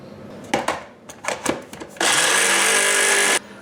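A blender whirs loudly and steadily for over a second as it purées onion, garlic cloves and a few spoonfuls of olive oil, preceded by a few short knocks and clatters, close by with no voices.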